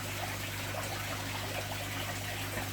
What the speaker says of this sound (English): just dripping in there through the top, through that thin slice that we've put there when we made the trickle filter